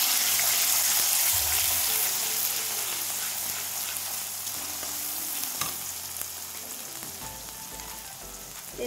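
Onion paste sizzles steadily in a hot pan while a spoon scrapes and stirs it, the frying crackle loud and continuous throughout.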